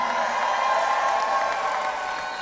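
A graduating class of 2025 at an Albright College commencement cheers and applauds, a steady dense roar of clapping and crowd noise that is loud and continuous throughout.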